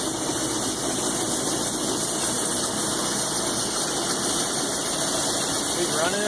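A Hobart 5801 commercial meat band saw runs steadily with a constant motor drone and whirring blade hum. The sound holds at an even level throughout, with no cutting load.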